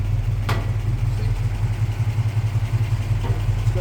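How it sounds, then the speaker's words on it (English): The old Y-block V8 in a Ford F600 truck idles with a steady low rumble, heard close and alone, with a brief clatter near the start. "I'll turn the engine on."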